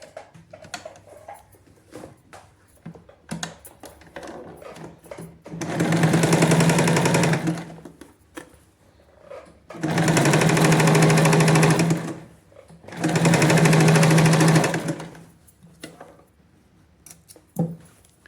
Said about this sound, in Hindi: और ये मार्किंग के ऊपर ही मैंने स्टिच लगा देनी है।